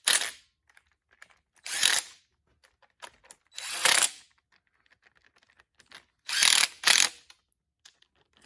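A hand ratchet cinches down oil pan bolts on a Case 188D tractor, giving several separate bursts of quick, rasping clicks close by, with quiet gaps between each turn.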